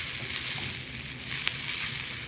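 Onions fry in a pan for spicy pumpkin soup with a steady close hiss and crackle, broken by a few small pops, alone without voices.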